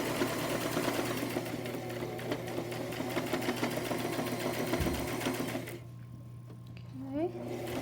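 A domestic sewing machine stitches fabric over a dart bump in a steady, close mechanical whir that runs continuously, then drops away near the end as a voice speaks briefly.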